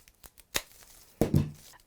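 Florist's shears snip a berry stem for a Christmas wreath, with a few quiet clicks and rustles followed by a sharper cut and crackle of foliage, close and brief.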